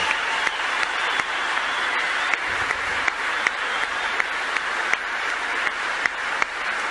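A storm of clapping from a large audience at a speech by Saudi Prince Salman, sustained and loud with sharp individual claps popping out of the dense wash.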